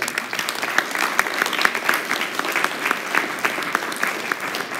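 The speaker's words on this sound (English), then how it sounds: "Round of applause for yourself" Audience applause at the close of a leadership talk, a full room clapping steadily and fairly loudly with no voices over it.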